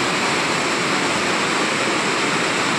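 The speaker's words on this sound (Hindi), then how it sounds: "बहुत तगड़ा मीह पई जांदा" Heavy rain pours down in a dense, steady roar that fills the whole span, falling on a field where a New Holland square baler was working.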